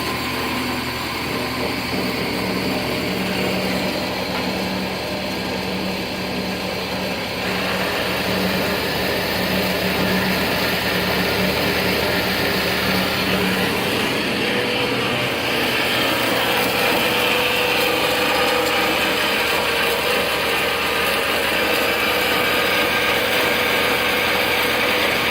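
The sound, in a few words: Ellis 1800 miter band saw running and cutting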